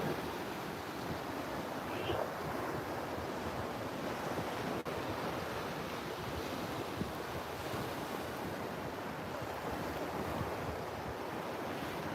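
Ocean waves wash onto the shore in a continuous rolling surge, steady and fairly close, with some wind rumble mixed in and no speech.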